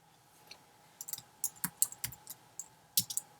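Keys on a computer keyboard clatter in short irregular bursts while text is entered into a WordPress blog editor, close and fairly quiet, with no talking.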